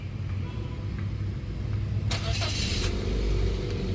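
A 2013 Mazda2 1.5 V automatic facelift starts up inside the cabin, a short starter crank near the two-second mark followed by a steady low idle rumble, close and fairly loud.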